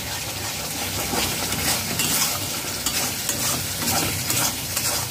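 Pointed gourd frying in a coconut spice paste is stirred in a pan, giving a steady dense sizzle with continuous scraping and stirring scratches, loud and close throughout.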